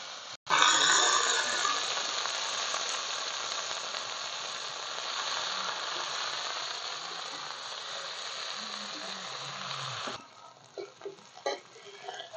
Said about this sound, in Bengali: তো আমার যে সবজিটা কাটতে রেখেছিলাম সেটা দিয়ে নিয়েছি, তেল গরম হয়েছে।